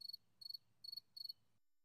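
An insect chirps in four evenly spaced, short pulsed trills, thin and high, moderately quiet with nothing else around.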